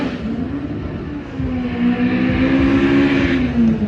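A Honda drag race car launching on the eighth-mile strip at Irwindale Speedway, its engine droning and rising steadily in pitch as it pulls away, loud with crowd and track ambience beneath.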